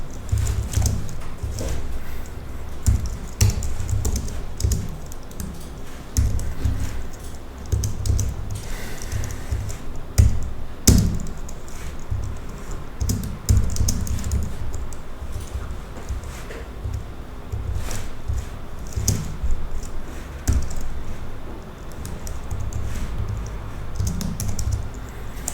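Rapid, steady clatter of keys on a computer keyboard while code is typed, continuous and close with irregular bursts and short pauses, no talking.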